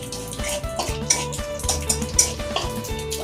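Dried red chillies and black cumin frying in a pan, with clinks of a metal utensil stirring against the pan over a low background sizzle, recorded close and without talk.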